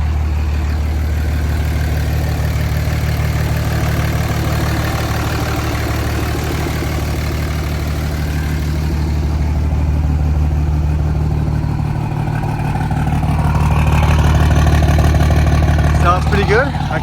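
A single cab short bed dually truck with a 2G engine swap idles right after starting, a steady, loud low rumble that runs the whole time and swells a little toward the end.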